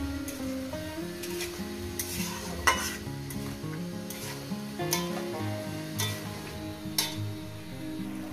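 Tomato sautéing in a pan over medium gas, with a steady sizzle, scraping stirs and occasional clinks of a utensil against the pan; close and fairly loud, with background music or hum underneath and no talk.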